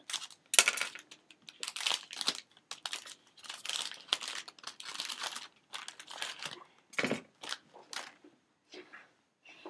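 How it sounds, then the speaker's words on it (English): A bar of Lush Porridge soap is cut, giving a series of close, crisp crunching and crumbly scraping bursts in irregular strokes separated by brief quiet gaps. "now I shall cut the beautiful PORIDG"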